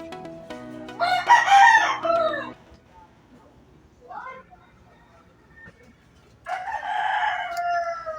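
Hens and a rooster at the nesting boxes: one loud crow near the start, then scattered clucks and squawks. A voice speaks lightly in the background.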